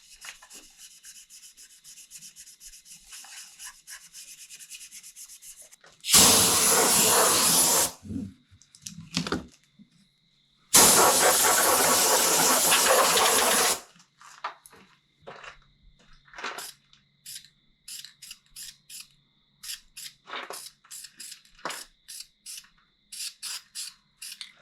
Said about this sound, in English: shoot some new paint on them.